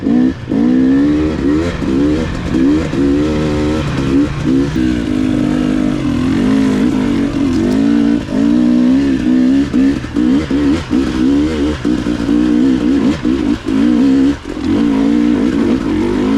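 A 2022 GasGas EC300 two-stroke dirt bike climbs a steep, technical uphill trail, its engine loud and close, revving hard and continuously with rapid throttle changes and bursts throughout.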